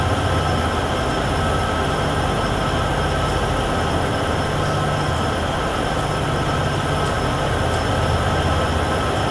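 Steady rumble of a freight train rolling along the Cheyenne–Laramie line in the Train Sim World 6 game, a dense continuous roar of wheels and engine with a faint high whine, heard alone without talk.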